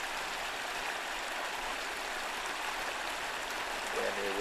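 The River Angus pours over Hoyslers Ford in a steady, unbroken rush of water that holds at an even level throughout, with a brief hint of a voice right at the end.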